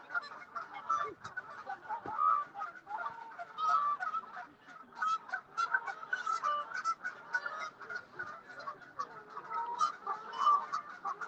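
Geese honking at sunset, a busy chorus of repeated nasal honks and calls overlapping at moderate distance, continuing without pause.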